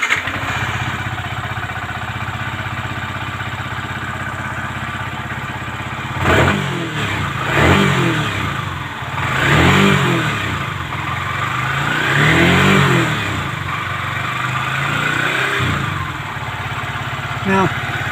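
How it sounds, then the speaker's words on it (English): A Yamaha R15M motorcycle engine idles steadily, then is blipped several times in short, rising revs that fade back to idle. A voice talks over it at moments. "Let me start the motor for you."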